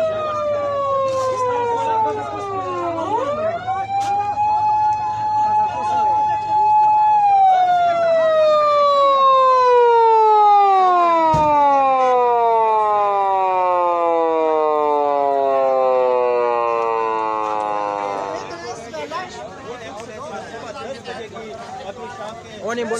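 Ambulance siren wailing at a blocked toll plaza, loud and near, sweeping up and down in long rising and falling tones that slowly glide lower and repeat over about twenty seconds amid crowd noise.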